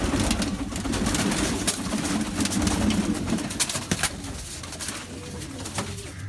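Bazi pigeons cooing steadily inside a loft, a dense low murmur of overlapping coos running throughout with occasional soft rustles and clicks nearby.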